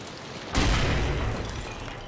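A sudden loud boom erupts after a brief quiet moment, then a rumbling, noisy decay and ringing tail, a grenade explosion in the video game Amnesia: The Bunker.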